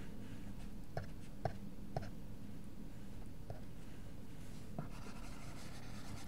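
Pen or chalk writing out a math equation by hand, a quiet scratchy rubbing with a few faint taps at the start of strokes, soft and close in an otherwise hushed room.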